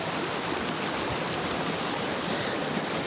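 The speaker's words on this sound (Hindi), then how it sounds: "आप देखिए एक छोटी सी नदी और कितना मनोरम है" A small, clear mountain river near the Pindari glacier rushes and gurgles in a steady, broad wash of flowing water, continuous and fairly loud with no voices.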